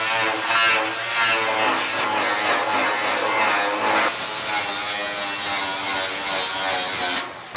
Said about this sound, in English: I'm going to go ahead and clean up the welds I just made on the edge.